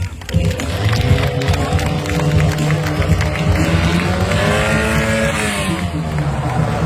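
A stunt car in a live stunt show revs and drives hard, its engine roaring loudly and rising and falling in pitch as it maneuvers, with a public-address announcer and crowd noise underneath.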